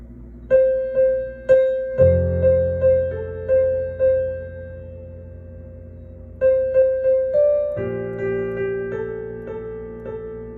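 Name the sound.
piano playing first two parts of a song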